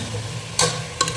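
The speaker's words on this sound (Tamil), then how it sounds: "அது கொஞ்சம் ஒரு 10 நிமிஷம் கொஞ்சம் நல்லா எண்ணெயில் கொஞ்சம் பிடிக்கட்டும் உருளைக்கிழங்கு" Halved potatoes frying in hot oil for a mutton lung gravy, a steady low sizzle broken by two short, brighter bursts of stirring or scraping, close and alone without talk.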